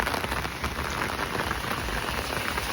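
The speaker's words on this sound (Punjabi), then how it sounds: "ਹੁਣ ਮੀਂਹ ਫੇਰ ਵੱਧ ਗਿਆ" Heavy windless monsoon rain pours steadily on paddy-season farmland, a dense continuous hiss of drops hitting surfaces with no letup.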